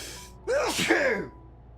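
A single close, sharp human sneeze with a breathy intake and explosive burst, heard alone against quiet background hum.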